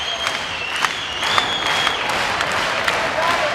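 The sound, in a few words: volleyball crowd cheering and applauding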